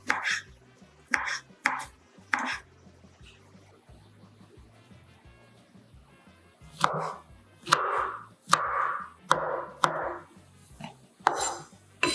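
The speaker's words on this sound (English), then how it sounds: "Cut thinly 2 to 3 sheets of oyster mushrooms." A knife slices oyster mushrooms thinly on a cutting board in close, crisp cuts, a few quick strokes, a quiet pause, then a longer run of louder chopping.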